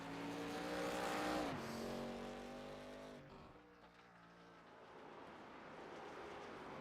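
A race car engine screams at high revs on the track at Sonoma, its pitch shifting down through a gear change before the sound fades slightly, then steadily builds again, heard at a distance.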